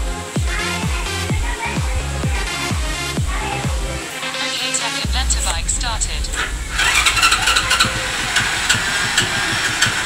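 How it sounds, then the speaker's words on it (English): A motorbike engine cranks with rapid rhythmic pulses, catches and settles into a loud, close idle that roughens and revs slightly toward the end. "Start my bike."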